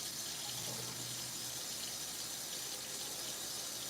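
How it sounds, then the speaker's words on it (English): Warm tap water runs steadily into an empty plastic spray bottle of homemade non-toxic cleaner, a continuous close hiss and gush of filling liquid with no break and no talking. "You can fill this up with water, regular tap water. I like to use warm water"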